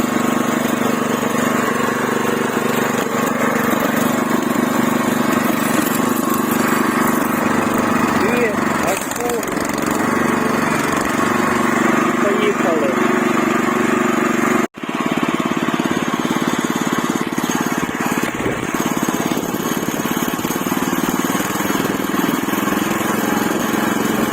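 Walk-behind tractor engine running in second gear, a loud steady rattling drone that continues unbroken with only a brief dropout partway, while someone speaks over it at times.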